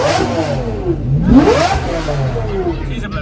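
A Koenigsegg CC850 engine revs in short bursts at a car event, rising and falling sharply and loudly close by, with people talking and shouting over it.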